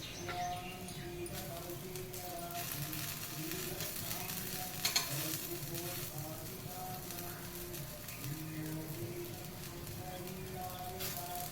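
A pesarattu (green gram crepe) roasts uncovered on a hot pan, giving a faint, steady sizzle that stays level throughout with a few soft scraping touches.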